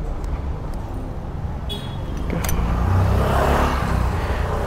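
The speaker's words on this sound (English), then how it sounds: "So yeah, let's start the engine." A BMW G310GS motorcycle engine starts up roadside and settles into a steady idle, a broad low rumble growing slightly louder and fuller midway, with faint passing traffic in the background.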